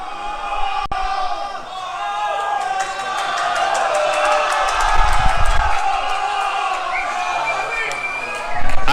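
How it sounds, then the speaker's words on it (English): Crowd cheering and whooping at an esports grand final, a dense steady roar of many voices with swells of louder shouts near the middle and end, continuous throughout. "A lot of cheering going on for something probably very stupid"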